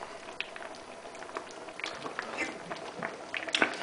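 Red Thai chicken curry simmering in a pan, a soft steady bubbling and sizzle with faint pops, fairly quiet and close, with no talk over it.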